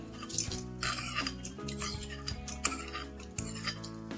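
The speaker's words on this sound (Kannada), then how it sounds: "ಇವಾಗ ಒಗ್ಗರಣೆನ ಚಟ್ನಿಗೆ ಹಾಕೊತಾ ಇದ್ದೀನಿ" Hot tempering is poured and stirred into lemon chutney in a home kitchen, producing metallic clinks of a spoon against a pan and bowl with soft sizzling, in bursts with short pauses, near and clear.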